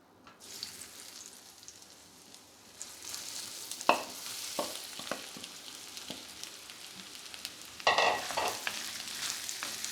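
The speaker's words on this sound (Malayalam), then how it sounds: "എണ്ണയിലേക്ക് നമുക്ക് ഈ സോയ ഒന്ന് ഇട്ട് കൊടുക്കാം" Soya chunks frying in oil while being stirred, a continuous close sizzle with sharp spoon scrapes and louder crackling surges, no voices.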